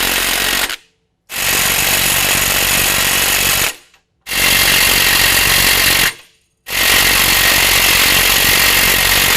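An impact wrench snugs up bolts with a 7/8 socket on a Fabtech 6-inch coilover lift kit for a 2019 GMC Sierra 1500, sounding as three loud, sustained bursts separated by brief silences, with no talking.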